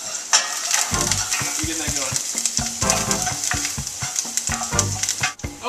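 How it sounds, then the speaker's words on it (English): A wooden spoon stirs shallot, garlic and parsley sizzling in a pan, with steady frying hiss and repeated scraping strokes; a voice briefly speaks over it. "Turn down the heat. Grab a wooden spoon."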